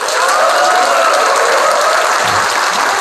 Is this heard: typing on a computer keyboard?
no